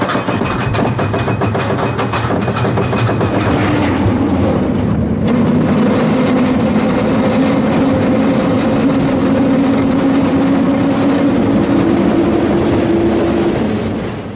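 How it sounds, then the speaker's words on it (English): Roller coaster ride at an amusement park in North Korea: a loud, continuous rumbling roar of the cars on the track, with a rising and falling mechanical drone that fills the whole stretch. "I'm at an amusement park in North Korea and I'm gonna go on a roller coaster now"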